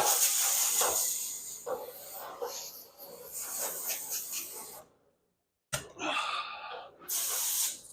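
A hose sprays water across a seafood table in a steady, loud hiss that cuts off for about half a second and then resumes, with a brief surging burst near the end.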